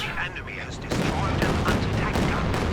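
Tank cannons, apparently two firing together, in a Company of Heroes 2 team battle, with heavy booming gunfire and continuous battle noise beneath an excited commentator's voice.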